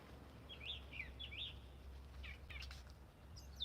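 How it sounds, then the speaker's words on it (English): A mockingbird sings nearby with short, varied whistled phrases repeated in quick succession over a low background hum. "The mockingbirds sound happy."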